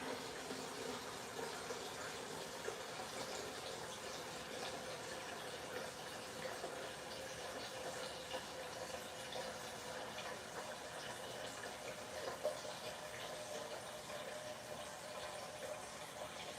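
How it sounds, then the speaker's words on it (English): Filtered water running from a refrigerator dispenser into a container, a faint steady stream of pouring water lasting throughout, quiet and without talk. "I like to use the refrigerator water because it's filtered."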